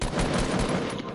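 Rapid automatic gunfire from a Fortnite battle royale match, a dense continuous burst of shots held close and loud for just over a second with no talk over it.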